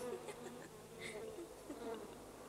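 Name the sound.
cartoon bees buzzing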